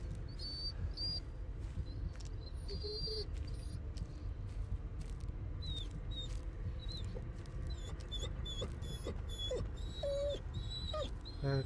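A dog whimpers in the Blair Witch video game, with thin high whines repeating at an uneven pace over a low, rumbling ambient background. The whines are faint to moderate and no voice is heard.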